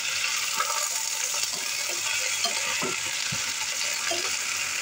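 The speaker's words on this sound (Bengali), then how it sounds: "এবার এটা তেলের মধ্যে দিয়ে নেড়ে ছেড়ে নেব" Taro stolons sizzle and hiss in hot oil while being stirred, a dense steady crackle close by with soft scraping and bubbling bursts throughout.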